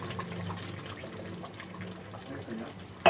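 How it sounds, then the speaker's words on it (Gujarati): Water is poured into a pan of simmering desi chicken curry gravy, giving a steady close splashing and trickling that runs for about three seconds over a low background hum. "આપણે થોડુંક પાણી આપણે એડ કરીશું."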